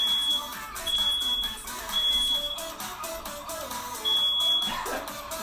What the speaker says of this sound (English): And we have a fire alarm going off over here.